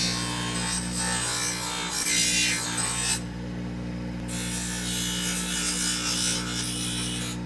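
Rough, fast trimming of orthodontic acrylic appliances with a lab grinder, a continuous loud whirring hum with gritty abrasive scraping that briefly eases off partway through, with no speech.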